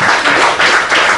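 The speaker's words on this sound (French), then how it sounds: "Je vous remercie d'applaudir Sophie Menton" An audience at a business talk on company development in times of crisis applauds the speaker, with loud, sustained clapping that swells in waves from a sizable crowd.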